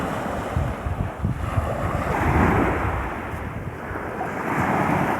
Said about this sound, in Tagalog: Oh, isang malawak yan na karagatan dito sa lalawigan ng San Isidoro.